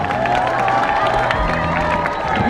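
Loud, dense crowd applause and cheering from a concert audience at a 2017 citizens' festival talk, a continuous wash of clapping with scattered whoops lasting the whole stretch.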